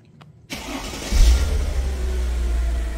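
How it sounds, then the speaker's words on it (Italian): A Mercedes SL R230 engine cranks and catches after a short quiet moment, firing up with a strong burst and then settling into a steady, even close-up idle. "E la mettiamo in moto"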